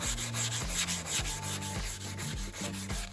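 Plexiglass being sanded by hand, a close, quiet rhythmic rasp of back-and-forth strokes, roughly eight passes with brief pauses between them.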